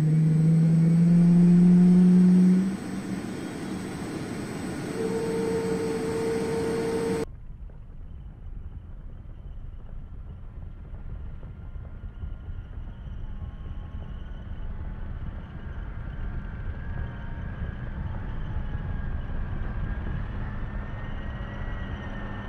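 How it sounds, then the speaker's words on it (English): Abrams M1A1/M1A2 tank turbine engine in the game Squad, a steady mid-loud rumbling drone with a brief louder revving surge at the start, then a sustained running hum. "The M1A1 and the M1A2 are going to sound similar in terms of their engine."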